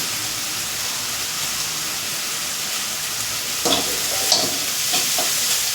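Cumin seeds fry in hot oil with a steady close sizzle and hiss, with a few brief stirring clatters toward the end.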